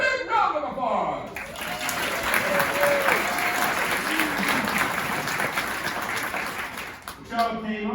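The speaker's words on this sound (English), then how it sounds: "Everybody give her a big round of applause." An audience breaks into a steady wave of applause as a young girl is brought on stage, dense clapping swelling in after a spoken lead-in and fading as a voice returns at the end.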